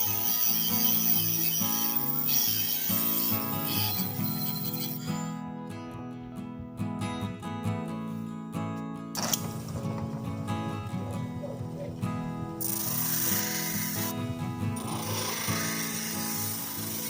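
A Dremel rotary tool cuts into an old metal key as it is shaped into a wedge for a vintage body hammer, giving a sustained whining drone with rough grinding and rubbing that briefly drops away and then resumes.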